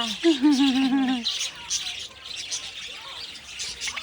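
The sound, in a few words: birds chirping while being hand-fed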